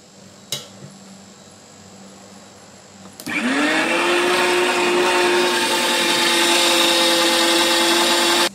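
Food processor chopping mushrooms: a couple of clicks and a thump, then the motor starts at about three seconds and runs as a loud, steady whirring drone to the end.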